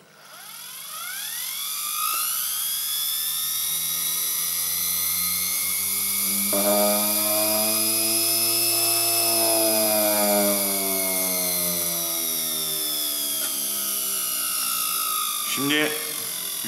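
A 50 W, 24 V brushed DC motor spins up and runs at high speed, giving a loud, steady whine with rising harmonic tones, held continuously for over fifteen seconds with a brief disturbance near the end.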